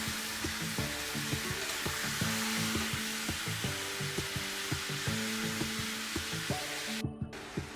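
Bone-in mutton for a Bengali-style korma fries in a pan with a constant sizzle, punctuated by regular light clinks and scrapes of stirring.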